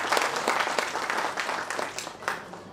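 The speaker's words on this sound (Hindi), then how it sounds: "एक बार जोरदार तालियों से आज के मुख्य अतिथि का स्वागत करें।" Loud applause from a ceremony audience at a retirement function welcoming the chief guest, dense clapping sustained throughout with no talk over it.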